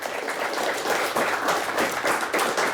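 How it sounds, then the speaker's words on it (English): Audience applause at a championship quiz-show game, a steady wash of many hands clapping that holds at an even level throughout, with no voices over it. "Nice round of applause for Marlette"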